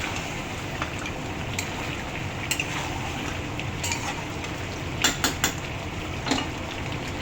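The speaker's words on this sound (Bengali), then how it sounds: "চিকেনটা এবার কষানো হয়ে গেলে একটু ভালো করে কষাবো" Chicken stir-fried in a pan until browned, a steady crackling sizzle running throughout with occasional sharp spatula scrapes and taps, heaviest near the end.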